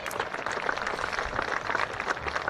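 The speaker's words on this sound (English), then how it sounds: "Please give our officials a round of applause." A crowd at a varsity high school football game gives the game officials a round of applause, a steady dense clapping from many people, fairly even throughout.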